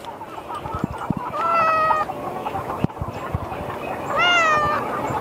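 Silkie chickens and a rooster cluck inside a coop, with a few drawn-out, wavering calls rising over a steady murmur of softer clucks and shuffling; a sharp knock interrupts midway.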